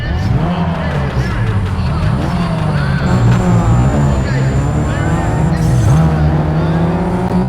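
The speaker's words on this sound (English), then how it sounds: "we go against the Golf GTI in Nevada, and give you a sound of this engine here." Golf GTI engine sound from the PS2 racing game Need for Speed: ProStreet during a grip race in Nevada, a steady, loud, heavy droning engine note running continuously throughout with shifting pitch.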